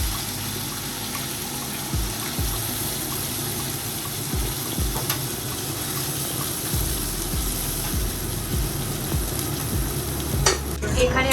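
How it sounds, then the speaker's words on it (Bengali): Masala being fried and stirred for chicken in a home kitchen, a steady close sizzle with repeated scraping stir strokes throughout, no voices. "আমাদের মশলা কষানো চলছে"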